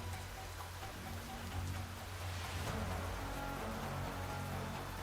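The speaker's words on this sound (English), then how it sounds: "Is it raining?" Steady rain hisses as a dense, even wash in a video game, with a low rumble beneath and no voices.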